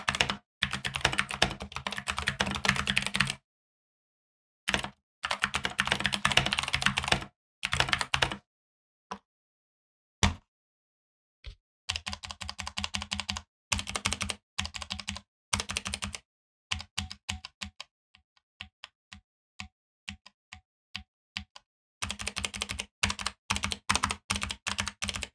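Typing on a Keychron K8 wireless mechanical keyboard for Mac and PC, close and crisp, with bursts of rapid keystrokes broken by short silent pauses.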